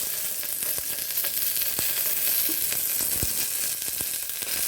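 Curry leaves and two dried chillies hit hot oil for green gram sambar, making a loud, continuous hiss with scattered sharp pops and crackles close by, no voices over it.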